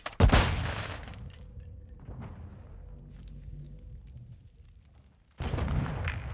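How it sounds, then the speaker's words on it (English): A charge detonates on the target during a Search and Destroy match: a sharp, loud blast opens the clip and fades into a lingering rumble, and another loud burst of noise returns near the end. "charge on the target and detonate it"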